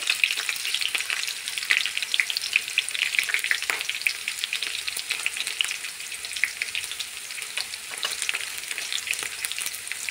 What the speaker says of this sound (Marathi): त्यानंतर लसूण टाकलाय, कढीपत्ता, मी थोडंसं तळून घेतली.